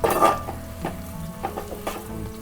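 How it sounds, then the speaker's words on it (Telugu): A spoon stirs onions and green chillies frying in a pan for poha mixture, with a soft sizzle under several distinct scraping strokes close by. "ఇప్పుడు ఇందులోకి మనం పచ్చిమిర్చి వేసుకుందాం వేసుకొని ఇవి మంచిగా కలుపుకుందాం ఇట్లా"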